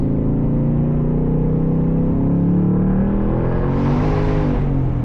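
A Ford Mustang Dark Horse with a six-speed manual pulls hard in second gear, its engine note loud and close, droning steadily and rising in pitch as it revs up, with no talk over it.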